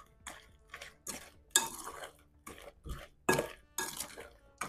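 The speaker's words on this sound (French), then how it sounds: "Juste battre avec une fourchette rapidement. Du coup, je remélange." A fork beats apple cake batter quickly in a bowl, giving a string of about ten fast, faint scraping and tapping strokes in an even rhythm.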